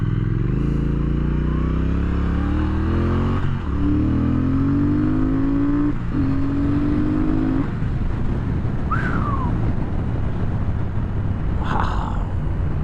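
A 2017 Triumph Thruxton R motorcycle ridden hard: a loud close engine drone rises through the gears with brief dips at shifts, then settles into a steady cruise over heavy wind rush.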